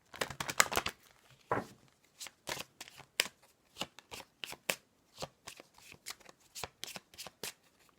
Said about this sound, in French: Je vais prendre quelques cartes de l'oracle de l'amour.